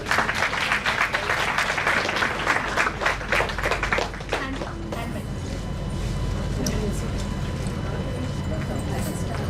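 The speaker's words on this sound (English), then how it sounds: "a big round of applause, please." Audience applause at a Women's Day celebration, loud dense clapping for about four seconds that stops abruptly, followed by steady room hum with faint voices.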